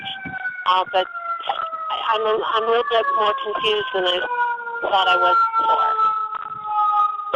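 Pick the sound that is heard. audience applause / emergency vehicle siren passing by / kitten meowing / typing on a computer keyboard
emergency vehicle siren passing by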